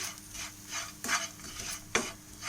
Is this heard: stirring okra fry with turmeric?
yes